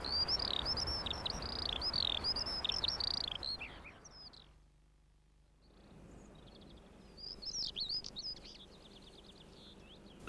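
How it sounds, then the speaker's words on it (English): Skylark song over open British countryside: a long run of high, rapid, warbling chirps and trills, loud at first, breaking off into a near-silent pause, then resuming more faintly with further trilled phrases. "The fact that the skylark is, in colour at least, similar to a number of birds sharing the same habitat, it's best to establish identity through song"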